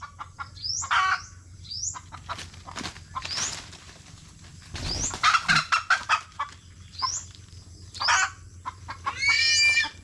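Chickens cluck and squawk in short, scattered bursts near and far around a rural yard with a nipa hut, some louder calls breaking in and a low steady background hum underneath.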